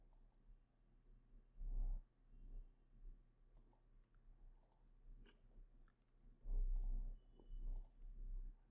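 Several sharp mouse clicks on a computer, spaced irregularly with quiet gaps between them, close and fairly faint over a low steady hum.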